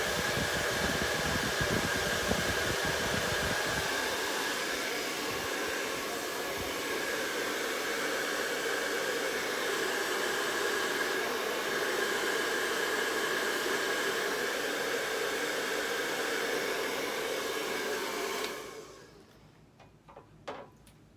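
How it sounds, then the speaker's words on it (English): A hair dryer blows steadily on a craft model of a vintage pumpkin-patch truck, a loud, continuous whoosh that runs for most of the stretch before cutting off near the end. "Now we're going to hit it with a blow dryer"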